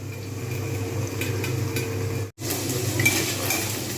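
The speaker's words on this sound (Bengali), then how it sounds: "আরও একটু তবুও ভালো করে ভাজবো" Potatoes fry in a pan for an aloo dum with capsicum, giving a steady low sizzle with occasional stirring and scraping sounds and a brief dropout near the middle.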